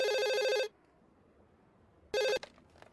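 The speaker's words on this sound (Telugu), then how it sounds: "ముందు నువ్వు ఫోన్ తీ మధుకు ఫోన్ చేయి" A telephone rings in a Telugu comedy film scene: a loud, steady electronic ring for about half a second, a long silent gap, then a second brief ring followed by faint clicks and rustling.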